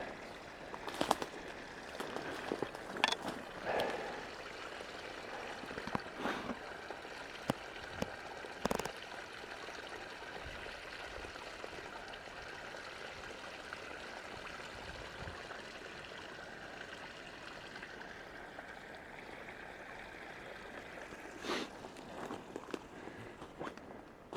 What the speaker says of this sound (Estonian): Ja siin on kuulda ka oja vulin.